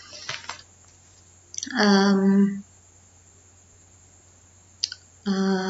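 Sharp clicks of a computer mouse on a web page login form: a quick cluster near the start, then a single click near the end, close and clear against quiet, separated by bursts of a synthetic tone.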